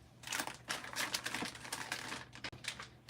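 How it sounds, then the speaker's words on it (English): An empty craft tape runner being swapped for a refill, heard as quiet, close plastic clicks, snaps and fiddly handling noises in quick irregular bursts, with no talking. "I'm gonna let you guys comment while I swap out my empty tape runner there"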